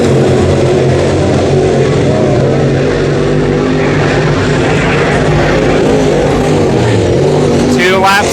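Indiana Pro Late Model Series race cars roaring around Brownstown Speedway during a heat race, a loud continuous engine drone with rising and falling revs, while an announcer talks over it.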